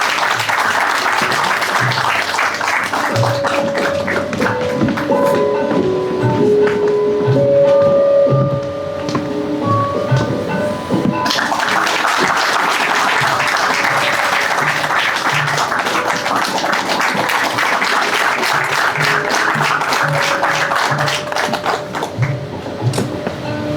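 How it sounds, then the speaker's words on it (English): An audience at an induction ceremony applauds steadily for a long stretch, dense clapping rising and falling, with a brief dip before swelling again. "Please give huge round of applause."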